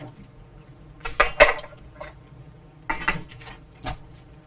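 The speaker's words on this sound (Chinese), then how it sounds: "盖上盖子" Lid set onto an electric cooker (rice-cooker style steamer) in a home kitchen, a few light metallic clinks and taps in quick succession, close and fairly crisp, with short pauses between.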